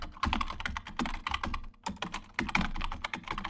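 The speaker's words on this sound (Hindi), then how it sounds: "फिर अपना लॉगिन आईडी जो है आपको टाइप करना है।" Login ID being typed on a computer keyboard, a quick uneven run of close, crisp key clicks with short pauses between bursts, no voices.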